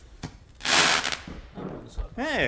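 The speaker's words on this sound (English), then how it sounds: "Hey, crackle as well." A Bonfire Night firework rocket bursts overhead with a loud crackling spray, followed by fainter pops, while a person's voice comes in briefly at the end.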